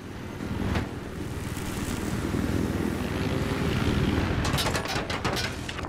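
A plane in the video game Battlefield 3 roars overhead, a steady broad engine drone that swells and holds loud across the whole stretch, with sharp crackling bursts near the end.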